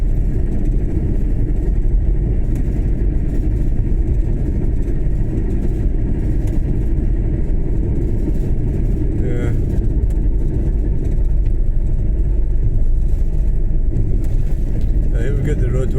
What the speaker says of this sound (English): There's definitely a lot of traffic coming out.